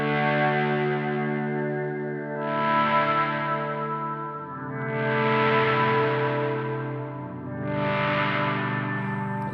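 Guitar through an Analog Alien Rumble Seat pedal swells into lush, pad-like chords, three slow waves of sound that rise and fade with a smeared, chorus-like shimmer.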